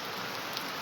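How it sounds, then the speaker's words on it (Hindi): Heavy rain pours down steadily over the hilly terrain of Gool subdivision, a dense, continuous hiss of drops on surfaces with no voices. "पहाड़ी इलाकों में किस तरह से तेज़ तरार बारिश हो रही है।"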